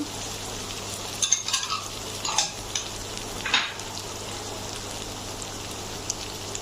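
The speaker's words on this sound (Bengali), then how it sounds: "দিয়ে দিচ্ছি কাঁচামরিচ কুচিগুলো" Chopped green chilies and onion frying in a pan make a steady, close hiss with a few louder stirring scrapes and spatters near the middle, and no voices.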